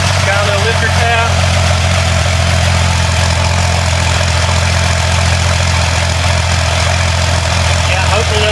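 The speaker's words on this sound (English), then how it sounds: "Got a little lifter tap." A Jeep Cherokee engine idles steadily up close with a light lifter tap, a constant low rumble with faint rapid ticking running through it and no talk.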